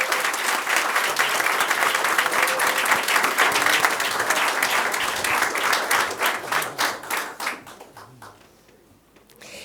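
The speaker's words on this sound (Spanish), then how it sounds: "Y un fuerte aplauso." A crowd at an award ceremony breaks into loud, sustained applause. Many hands clap densely at first, then the clapping thins into distinct individual claps and fades out near the end.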